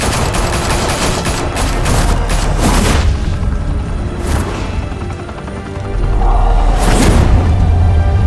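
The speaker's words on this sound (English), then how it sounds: "Open fire!" Heavy gunfire in a Batman video game: sustained bursts of automatic fire with booming impacts, loud and close, easing briefly mid-way before a fresh louder volley.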